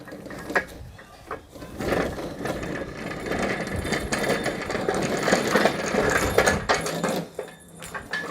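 Welding trolley built from scrap metal rolling over a floor, a steady rattling, clicking mechanical clatter of wheels and loose parts, close and continuous with brief louder knocks.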